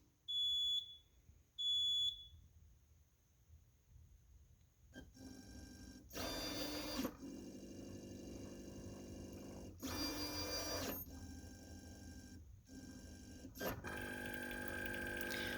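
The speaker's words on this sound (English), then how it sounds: "now you'll notice it's moving the plate platform" A Bio-Tek Precision microplate pipette system runs its self-test: two short electronic beeps, then motor whirring and buzzing in bursts as the plate platform moves back and forth, fairly close and alone without speech.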